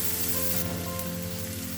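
Finely chopped onion hits hot mustard oil already seasoned with cumin and asafoetida, giving a loud, steady close sizzle and crackle that carries on without a break, with no talking.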